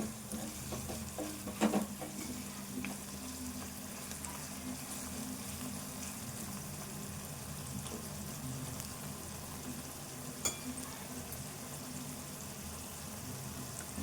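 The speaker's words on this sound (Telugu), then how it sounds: "ఈ ఉల్లిపాయ మంచిగా ఫ్రై కావాలి దగ్గరికి" Sliced onions frying in hot oil for an onion egg fry, a low, even sizzle running steadily throughout with a couple of faint utensil knocks early on and no voices.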